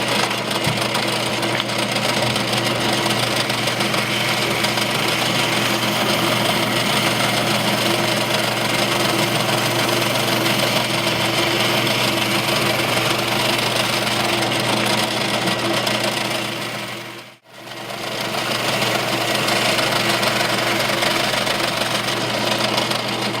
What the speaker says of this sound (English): I'm just working with a sort of makeshift sander to sand out the saw marks.